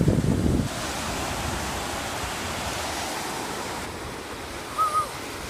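Surf at Rockport Beach, Massachusetts, washes in as a steady broad hiss of waves, with wind buffeting the microphone and a brief thump at the start.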